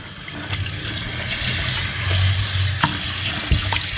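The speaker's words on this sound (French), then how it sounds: "Alors, il faut bien les rincer déjà." An octopus is rinsed under running tap water in a kitchen, a steady close splashing stream with wet handling sounds and a few knocks, no talk.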